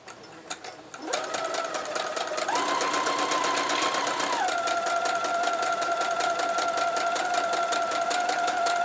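A sewing machine stitches quilt blocks for 60-degree diamond quilting, its motor whirring in a steady, loud, continuous run with a rapid needle clatter and a brief shift in speed partway through.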